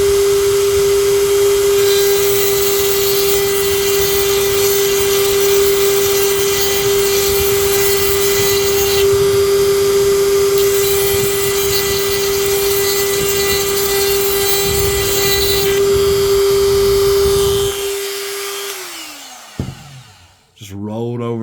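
A Dremel rotary tool grinds a sharpening choil into a knife blade: a steady high whine with gritty scraping for most of the stretch, then spinning down and stopping near the end.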